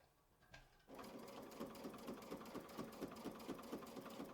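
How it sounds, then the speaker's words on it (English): Close sewing machine stitching a quilt block, starting after a short quiet moment and then running at a steady, even pulsing rhythm of needle strokes. "listen to the rhythm of the stitching from the video"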